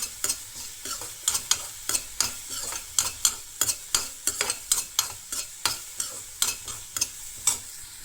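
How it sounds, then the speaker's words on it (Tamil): A spoon stirs and scrapes cauliflower manchurian gravy with onions in a hot pan, giving steady rhythmic strokes roughly twice a second over a soft sizzle. "இது வந்து ஒரு 1 minute ஃப்ரை பண்ணால் போதும்."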